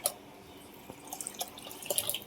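Water splashes and trickles into a cooking pot in short uneven spurts for mutton biryani, close up and fairly quiet, with no talking.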